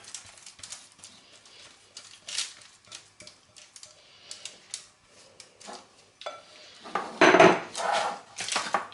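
Chocolate cake batter being scraped into a baking pan and levelled, with sparse utensil taps and scraping against the pan, quiet and close, ending in a louder burst of clattering.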